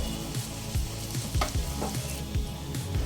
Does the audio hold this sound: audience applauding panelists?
no